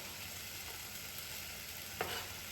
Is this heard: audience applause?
no